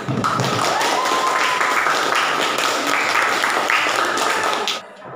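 A classroom of students applauds in a steady, dense burst of clapping that lasts several seconds and then stops abruptly.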